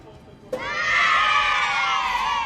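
A loud crowd of children cheering and screaming plays as a stream alert sound effect, bursting in suddenly and holding steady.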